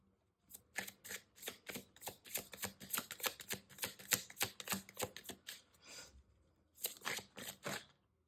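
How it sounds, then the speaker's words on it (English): Prism Oracle cards are shuffled close up: rapid bursts of crisp flicking and riffling clicks, a short pause, then another quick flurry. "So let's pull some Prism Oracle cards for you."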